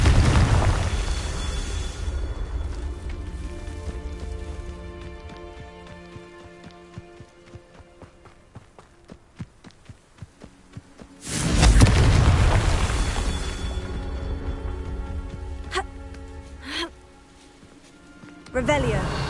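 Confringo fire-blast spell in Hogwarts Legacy, a sharp booming blast erupting midway after quieter rumbling and ticking game sounds, with a further thump and a few ringing tones toward the end.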